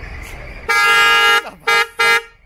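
Loud, close scooter horn blaring in busy Delhi street traffic: one long blast followed by two short toots, with faint traffic noise underneath.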